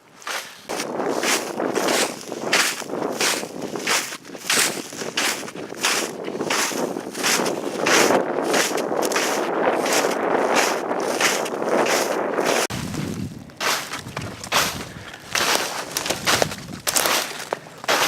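Strong wind blows outdoors near the woods, buffeting the microphone in loud, gusting rushes with rhythmic flapping pulses, easing briefly before picking up again.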